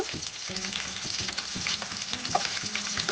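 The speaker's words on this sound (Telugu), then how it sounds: "కొంచెం అల్లం, 2 వెల్లుల్లిపాయ రెబ్బలు వేసుకొని ఫ్రై చేసుకోవాలి" Green chillies, garlic and ginger fry in a pan, a close crackling sizzle with repeated scraping and tapping of stirring over the hiss.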